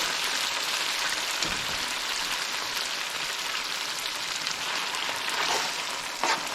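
Steady, dense sizzling of garlic and pasta frying in hot oil in a pan, a close and continuous crackle with a few brief stirring clatters near the end.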